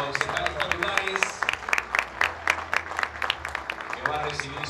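Steady applause from a crowd at a municipal council inauguration ceremony, many hands clapping at once, continuing throughout at moderate volume.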